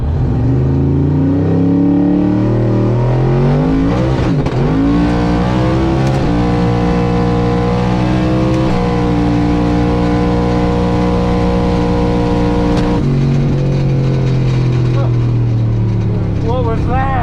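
An LSXcalade, an LS-swapped Cadillac Escalade running 25 PSI of boost, launches hard, the engine roaring loud and close as it winds up through rising and falling pitch sweeps with a gear change, while a voice talks over it.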